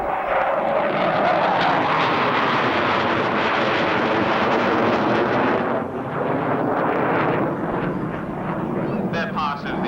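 Military jet aircraft performing a flying display at the RAF Abingdon airshow in 1990, a loud continuous engine roar that sweeps across the sky, with wind buffeting the microphone throughout.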